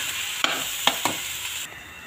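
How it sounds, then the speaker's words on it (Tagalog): Glutinous rice is stirred in a hot pan, a steady frying hiss broken by three sharp scrapes of the utensil, close and fairly loud, with no voices. "lagyan na natin yung ating rice. Glutinous rice. So, ayan, haluin lang natin ng maigi."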